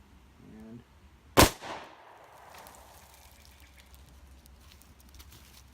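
A single sharp, loud 9mm pistol shot from a Walther, firing +P NATO ammunition at body armor, cracks out and then fades into a brief echo, followed by quiet outdoor ambience.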